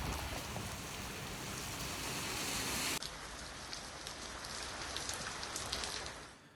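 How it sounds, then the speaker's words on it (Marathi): Heavy unseasonal rain lashes Rahata and Kopargaon talukas in Ahilyanagar district, making a steady, close hiss of pouring water. It is loud in the first half, then eases to a slightly softer patter after an abrupt cut. "अहिल्यानगर जिल्ह्यातील राहता आणि कोपरगाव तालुक्याला अवकाळी पावसानं झोडपून काढलंय।"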